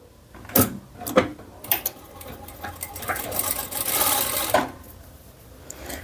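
Sewing machine stitching knit sweater fabric for a high-necked blouse, with sharp clicks and bursts of fast mechanical whirring up close, including a longer sustained run, no voices.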